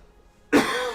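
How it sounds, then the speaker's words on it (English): A single harsh cough from a person with a bad cough, sudden and close after near silence, followed by a breathy trailing rasp. "Because I've got a bad cough going."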